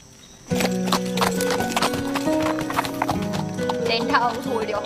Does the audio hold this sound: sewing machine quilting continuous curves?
no